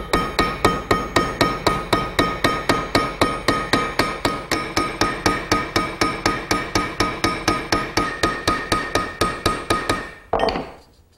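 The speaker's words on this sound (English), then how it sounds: "using a ball peen hammer, I'll peen over the end of the bolt to form a rivet" Ball peen hammer repeatedly peening a bolt end into a rivet on a heavy steel plate, a steady train of about forty sharp metallic blows close up, then a final ringing strike and stop.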